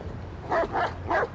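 A dog barks three times in quick succession in the video game Watch Dogs 2, sharp mid-range yaps over a low ambient game hum.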